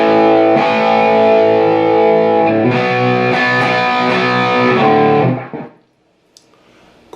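A heavily distorted electric guitar plays the chorus of a song with loud sustained power chords. The chords change a few times and then cut off into near silence.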